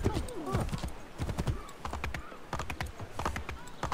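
Hooves clip-clop in a quick, uneven rhythm in the video game Assassin's Creed III, with someone talking over the steps and a short horse snort.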